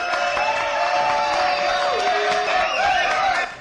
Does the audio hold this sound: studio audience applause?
yes